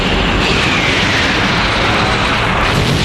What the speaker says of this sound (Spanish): el bombardeo aéreo